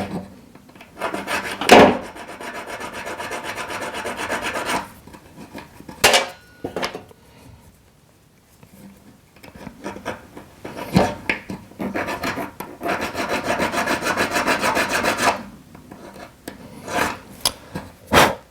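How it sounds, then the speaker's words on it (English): A triangular file rasps against a square silver claw setting, with repeated near scraping strokes in two long bursts separated by a pause and a few sharp knocks. "Do that with a triangular file. It'll also neaten the outer edge of the areas that you have just sawn."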